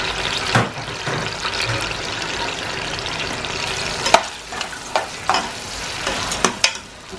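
Sliced onions frying in hot oil inside a pressure cooker on a stove, a steady close sizzle with occasional stirring clinks and scrapes.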